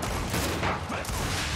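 Boltok pistol shots in the video game Gears 5, a rapid cluster of loud overlapping gunfire cracks within a dense mix of game noise, all crammed into under two seconds.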